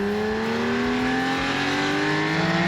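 A Porsche 911 Targa's naturally aspirated 3.8-liter flat-six revs hard, its loud, close engine note climbing steadily in pitch as it accelerates, with no voices over it.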